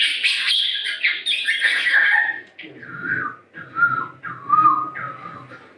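A voice imitates birdsong with a run of bright whistles and chirps, high fluttering calls first, then lower, separate warbled phrases.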